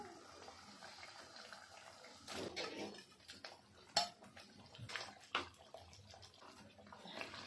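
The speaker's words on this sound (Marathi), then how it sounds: "आता आपण हे चिकनचे पीस टाकून घेऊया" Butter chicken pieces go into a pan of gravy, making quiet wet plops, a few soft clinks and light sloshing in short bursts against a hushed kitchen background.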